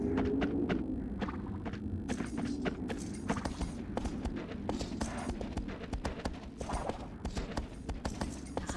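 Horse hooves in Shadow of the Colossus, a steady run of clip-clop hoofbeats under game music and ambient noise, continuous and fairly close.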